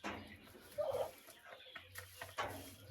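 Hens in a chicken coop give soft clucks and short murmuring calls, faint and intermittent, over quiet rustling in the background.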